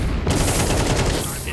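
Rapid automatic gunfire from the Counter-Strike video game rattles in a dense, continuous burst, loud and close throughout.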